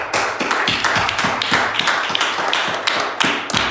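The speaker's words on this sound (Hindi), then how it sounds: "यीशु के नाम में तालियां" A church congregation claps together during a Sunday service, steady rhythmic hand claps, loud and close, continuing without pause across the whole stretch.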